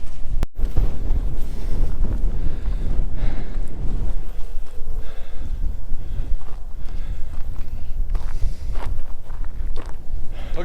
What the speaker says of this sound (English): it's getting windier, and the snow's really starting to